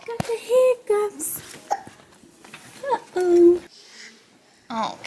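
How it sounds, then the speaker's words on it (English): A baby boy with the hiccups just after a long nap, short tight hiccup squeaks recurring a few times in a quiet room, close to the microphone, with soft vocal sounds in between. "Got the hiccups."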